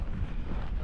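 Wind buffeting a microphone on a windy morning hike on a trail, a steady low rumbling roar through a brief moment with no talk.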